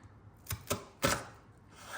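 A knife slices an onion into rings, giving three crisp, quiet cuts in quick succession, each a short crunching chop against the board, with no talking.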